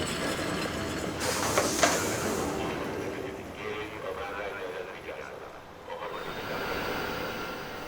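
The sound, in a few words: Austrian OBB locomotive arriving at Budapest station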